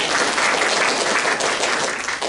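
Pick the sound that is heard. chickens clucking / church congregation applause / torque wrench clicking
church congregation applause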